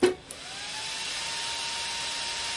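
A steady broadband whir starts after a brief click and holds level, with a faint high whine, as a Mecpow X4 22-watt laser engraver's fans spin up nearby.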